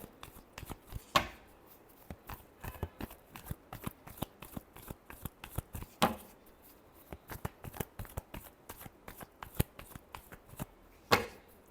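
Tarot cards are shuffled in repeated crisp riffles and flicks, close and quiet, with a few sharper card slaps spaced through the run.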